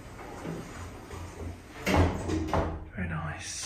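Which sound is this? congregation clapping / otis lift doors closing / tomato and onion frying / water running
otis lift doors closing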